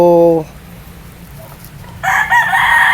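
A rooster at a poultry breeding yard crows loudly and close by, with one crow at the start, a quiet gap, then a second longer crow near the end.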